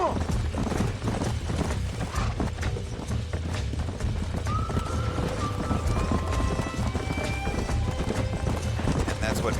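Horse hooves clip-clop steadily at a gallop in the Red Dead Redemption video game, with occasional whinnies over a continuous bed of game sound and talk.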